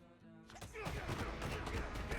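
Enemy gunshots in a Spider-Man video game, a sudden loud burst of rapid automatic fire that starts after a quiet moment and continues over game noise.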